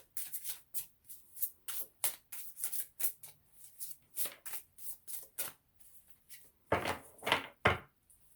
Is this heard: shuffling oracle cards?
yes